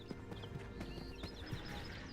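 Horse hooves clip-clop on the ground in Ashes of Creation, faint, with a few scattered hoofbeats over a steady ambient bed and light chirping.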